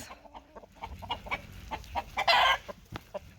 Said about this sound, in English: For those of y'all wondering about all the crowing you hear in the background, I have like 10 more roosters than I need.